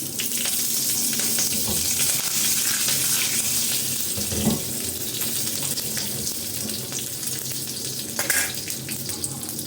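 Dried red chillies and curry leaves sizzling in hot oil in a pan after white sesame seeds go in, a loud, steady crackling fry close to the mic with occasional stirring clinks and no talk.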